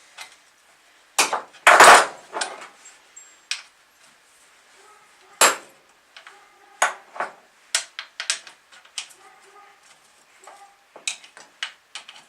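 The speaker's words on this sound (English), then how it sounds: "tighten the bar nuts." Metal tool clicking and clanking on a chainsaw as its bar nuts are tightened, a series of sharp, close taps and ratchet-like ticks with quiet gaps between them.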